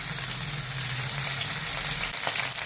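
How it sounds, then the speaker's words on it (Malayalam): Curry leaves dropped into a little hot oil in a pan for a Kerala pearl-spot fish dish, a loud, constant sizzle and spatter close up, with a low burner hum underneath and no voices. "ഇത് ഇച്ചിരി എണ്ണ വേണേ. ഇതിലോട്ട് ആദ്യം വേപ്പില ഇടുകയാണേ."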